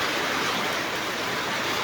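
Heavy rain pours down over an outdoor market, a dense, loud, unbroken hiss of downpour that fills the whole moment with no break.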